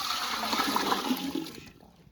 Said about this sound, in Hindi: इस बर्तन में हम डाल देंगे पानी।